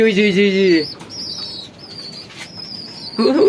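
An Art Angel pigeon's wings flap in quick bursts with thin chirps between them. A voice is heard briefly at the start and again at the end.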